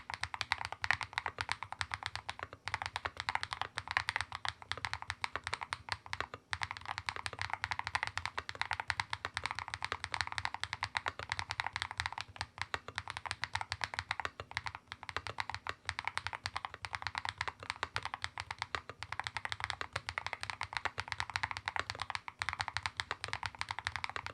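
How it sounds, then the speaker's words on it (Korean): Rapid, continuous clacking of a Gravastar V60 Pro magnetic-switch mechanical keyboard being typed on, a dense even patter of crisp clicks, fairly quiet and close. "자, 그럼 이제 키보드 타건음 들어보도록 하겠습니다."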